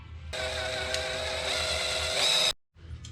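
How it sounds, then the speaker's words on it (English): A power drill whines steadily as it bores out a pop rivet on a Holden HT Monaro window regulator, a loud continuous buzz rising in pitch near the end before cutting off abruptly. "drill that pop rivet out."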